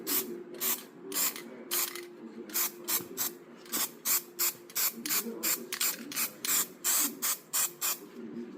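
A spray can dusts white paint over body filler on a service truck. Short hissing bursts repeat in a steady on-off rhythm, close and fairly loud, with no voices.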